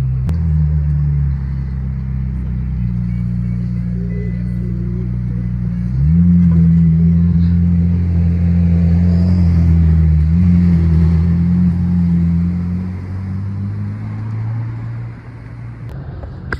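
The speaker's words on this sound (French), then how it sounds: "McLaren Senna." A McLaren Senna petrol supercar engine rumbles nearby, a deep steady drone that swells into a stronger rev midway before easing back down, with no talk over it.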